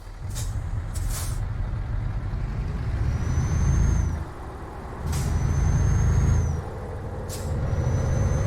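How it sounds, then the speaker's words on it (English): A Scania truck in American Truck Simulator releases several sharp air-brake hisses over a steady low engine rumble, with the engine tone rising and falling between bursts. "And then the brake sounds and everything"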